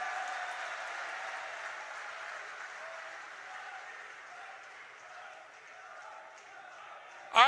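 A large crowd applauds steadily at an outdoor political rally in Churu, a dense even clapping that holds throughout and slowly fades, ending in a sudden loud burst.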